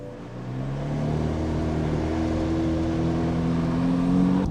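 A 670 hp Corvette engine holds a loud, close droning rev that climbs gradually in pitch and stays steady for several seconds, with no talking.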